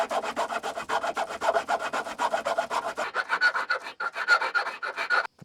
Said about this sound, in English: I'm going to attempt to cut between the two holes now with this multi-tool.